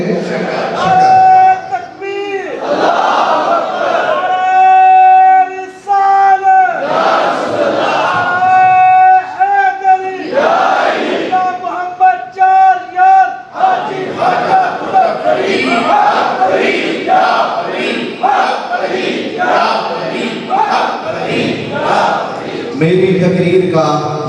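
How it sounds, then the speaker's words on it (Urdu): A large crowd at a religious gathering roars back a slogan in unison, loud repeated chanting in waves that fills the space, with a leader's voice calling between the responses. "میری تقریر کا یہ پہلا نعرہ تھا جو اس نوجوان نے لگایا ہے، اور آپ سب نے میری تقریر کے پہلے نعرے کا جواب دیا ہے"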